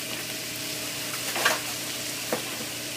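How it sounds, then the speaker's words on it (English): Pine nuts frying in a pan give a steady, soft sizzle throughout, with a couple of brief scrapes or stirs standing out above it. "And then I'm just going to add my pine nuts to that. I want them to cook a little bit"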